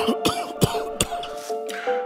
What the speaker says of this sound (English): that person next to you keeps coughing